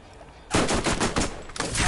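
Gunfire from the video game Borderlands erupts suddenly after a quiet start: a loud, close burst of rapid automatic shots, a brief dip, then another burst.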